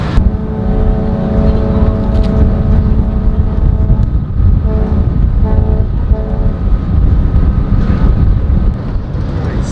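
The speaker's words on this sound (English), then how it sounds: "We're on the motor vessel Cape Henlopen." Engine drone and steady rumble aboard the moving ferry motor vessel Cape Henlopen, crossing from Cape May, New Jersey to Delaware, a loud continuous low hum with tonal machinery lines throughout.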